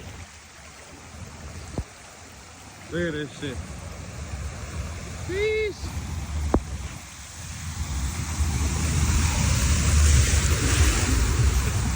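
Raging floodwater rushing through a street in Puerto Vallarta, Mexico, a constant broad roar of flowing water that swells louder toward the end, with someone talking and exclaiming over it.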